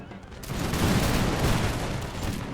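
Massed musket volleys crackle in a dense, continuous fusillade as Hessian auxiliaries and citizenry units are shot in an American Revolution battle game, rumbling at mid-distance.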